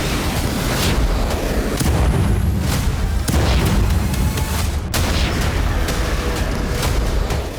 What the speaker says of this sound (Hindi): लॉन्ग रेंज वाले ये रॉकेट इजराइल की सीमा में दाखिल हुए और समुद्र के किनारे धमाके शुरू हो गए।